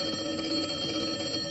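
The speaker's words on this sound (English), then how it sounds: "Phone. I better answer that." An old telephone bell rings steadily in a vintage television comedy scene, a continuous bright ringing that is fairly loud and heard alone.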